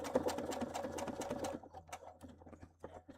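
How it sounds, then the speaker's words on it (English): A sewing machine stitches along a drawn line in quick, even bursts of needle clatter for about a second and a half, then slows into sparse, irregular clicks. "I'm just sewing right on that line that I drew."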